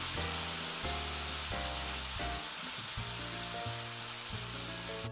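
Garlic and lemon zest shrimp sizzle steadily in olive oil and spices in a hot pan, a loud, continuous frying hiss that fills the whole stretch with no voices.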